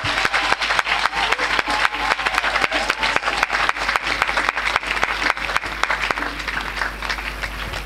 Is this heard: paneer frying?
no